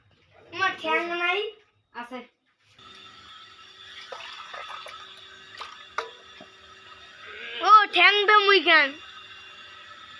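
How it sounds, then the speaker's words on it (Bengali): Water is strained off boiled chicken in a village kitchen as a steady, hissing stream pours out, with a voice heard before and after. "চিকেনগুলো এখন জল ছেঁকে ছেঁকে ফেলে দেওয়া হবে।"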